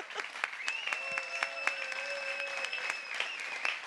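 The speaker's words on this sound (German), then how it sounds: "Und deswegen auch Applaus" Steady applause from a crowd at a science slam, a dense patter of many hands clapping continuously, with a faint whistle running through it.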